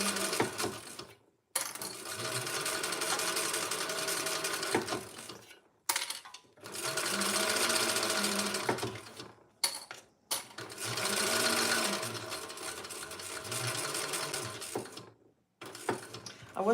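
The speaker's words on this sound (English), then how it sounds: "I'm going to just top stitch." A sewing machine top stitches in several bursts of rapid, steady whirring, separated by short pauses, close and fairly quiet.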